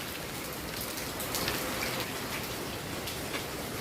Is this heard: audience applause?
no